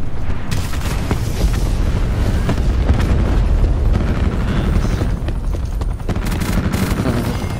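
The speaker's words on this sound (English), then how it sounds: "Rocket." A rocket explosion in Call of Duty: Black Ops 4 booms loud and close, followed by a sustained rumbling roar with scattered gunfire cracks layered over it.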